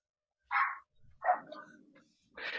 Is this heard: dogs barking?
yes